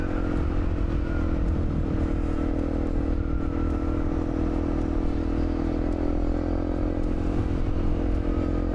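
A Honda CRF250L motorcycle cruises on an Oregon road at highway speed, with a constant loud engine drone and rumbling wind and road noise from the rider's position; no voices are heard.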